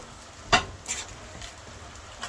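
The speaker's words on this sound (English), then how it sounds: "Give it a stir." A spoon stirs a thick breadfruit curry with saltfish in a pot, giving one sharp scrape and clink against the pot followed by softer stirring taps, close and alone.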